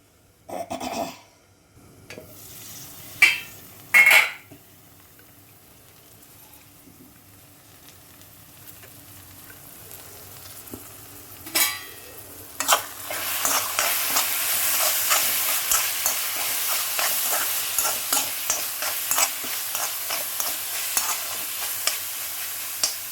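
Fenugreek leaves stir-frying in oil in a pan: after a few loud clanks of a utensil, a bright, steady sizzle builds up and runs continuously with rhythmic stirring scrapes.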